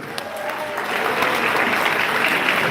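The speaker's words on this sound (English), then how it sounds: "everybody, please have a round of applause for Dr." An audience at a world mathematics team championship award ceremony in a hotel in Incheon applauds continuously. The clapping is dense and swells to a full, steady level.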